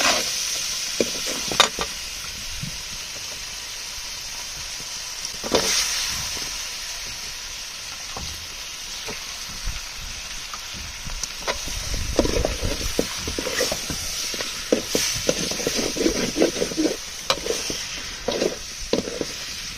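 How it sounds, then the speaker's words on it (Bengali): Gagra tengra fish in spiced masala sizzles and fries steadily over a wood-fired stove, with stirring scrapes and bursts of hissing that grow busier and louder toward the end, no voices. "মশলা কষানো প্রায় শেষের দিকে, মাছ দিয়ে দেওয়া হবে"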